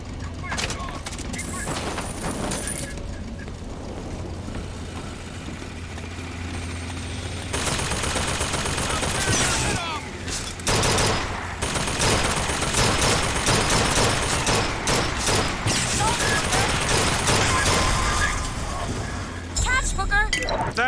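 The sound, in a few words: gunfire in a shootout, from video game Bioshock Infinite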